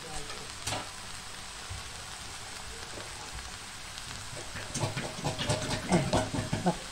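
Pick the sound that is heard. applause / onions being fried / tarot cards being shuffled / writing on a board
onions being fried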